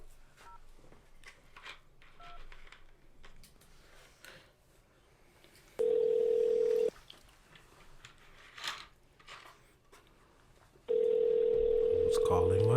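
A telephone ring tone sounds as two long, loud, steady single-pitch bursts about five seconds apart, separated by quieter background noise with faint voices and chewing-like sounds.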